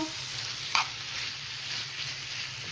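Chicken bolognaise sauce simmers and sizzles in a pan, a steady close bubbling hiss with a single sharp clink near the start and no talking.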